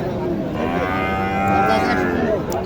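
A Sahiwal cow at a rural cattle market lows in one long, loud, close moo that wavers in pitch and swells near the middle before fading.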